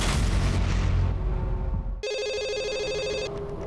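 A telephone rings with a bright electronic trill that begins midway through the clip, following a burst of loud low noise.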